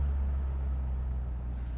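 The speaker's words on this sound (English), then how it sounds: "Nice running car." A 1966 Ford Mustang engine runs at a steady idle, a continuous low rumble with an even, unchanging drone throughout and no voices.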